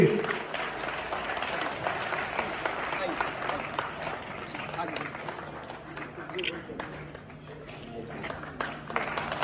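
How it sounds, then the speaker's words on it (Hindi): Sustained applause from the audience at an Azadi Ka Amrit Mahotsav ceremony in Bagdar, steady dense clapping that runs throughout with a voice speaking over it. "जोरदार तालियां बजाई जाइए"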